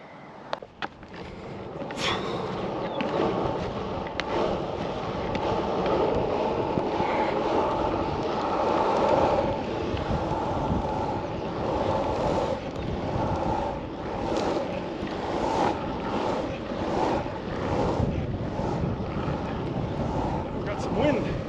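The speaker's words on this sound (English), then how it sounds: "Got some wind." Steady broadband wind rush from riding a snowboard in spring conditions, a continuous roar buffeting the microphone for the whole stretch with small bumps and scrapes underneath and no talking.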